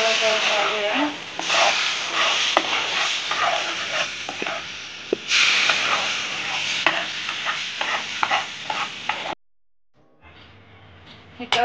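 Roasted semolina mixed with Maaza mango drink is stirred in a pan, giving a close, continuous scraping and soft sizzling that breaks off briefly near the end before resuming.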